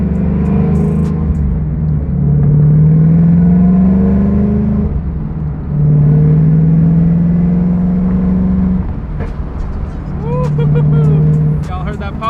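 A twin-turbo Boss 302 Mustang, built to about 1000 hp, revs in loud rising pulls with a steady rumble between them, sounding up close with a sharp exhaust pop near the end.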